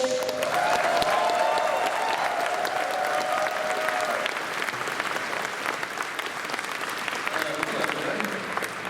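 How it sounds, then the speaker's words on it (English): Loud, sustained applause from a large crowd at a furry convention closing ceremony, steady clapping and cheering filling the space for several seconds. "Give it up for your director of dealer's room, Foxy."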